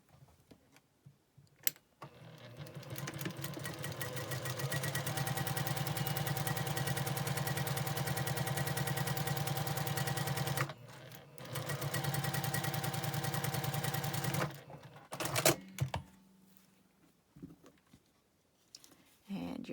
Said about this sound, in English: So we are going to sew our strips.